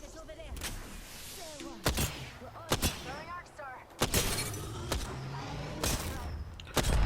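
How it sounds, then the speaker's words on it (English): Gunfire in the battle royale game Apex Legends, sharp broadband shots landing at irregular intervals, several close and loud, with game effects and chatter between them. "Hitting some good shots on that Revenant"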